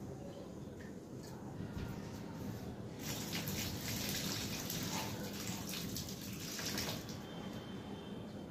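Rinse water from washed rice and dal pours out in a continuous splashing gush, steady and fairly close, with no talking over it.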